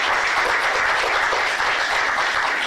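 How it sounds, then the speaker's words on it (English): Sustained applause from an audience at a talk about the Fukushima nuclear accident, a dense, steady wash of clapping that fills the whole stretch without pause. "And so, yes, we should applaud."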